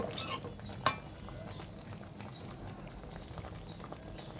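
A pot of bitter gourd curry comes to a boil with soft, low bubbling and a faint simmer. A couple of sharp utensil clinks sound at the start, and no one speaks.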